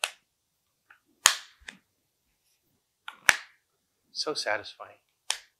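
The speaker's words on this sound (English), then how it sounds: "these break apart very easily, and they snap together even easier" Plastic parts of a Perception Neuron motion capture suit snap together in several sharp, crisp clicks spaced apart, close and clear in a quiet room, with a brief spoken remark between them.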